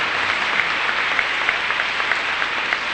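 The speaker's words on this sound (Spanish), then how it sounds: "pueden darle el aplauso al párroco." Steady applause from a church congregation, a dense even patter of many hands clapping throughout, moderately loud and unbroken.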